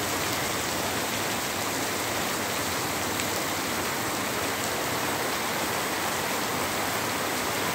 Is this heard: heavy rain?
yes